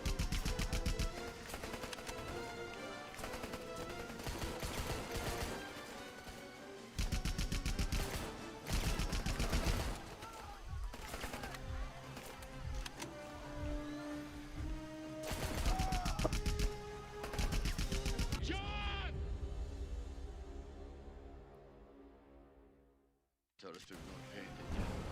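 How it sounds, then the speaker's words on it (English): Sustained bursts of automatic gunfire and explosions from an online shooter game, a minigun and an enemy jeep among the chaos, loud and dense for most of the stretch before thinning out, with a player's voice over it. "What, are they shooting through the rock?"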